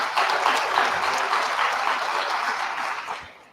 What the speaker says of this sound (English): So please, ngicela nje a round of applause for the awesome team